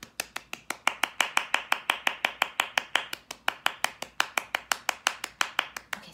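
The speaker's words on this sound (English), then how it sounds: "let's clap our baby runs on the count of three" Hands clap a fast, even "baby runs" rhythm in a children's creative movement and pre-ballet dance class, about thirty crisp claps in steady succession, close and alone without talk.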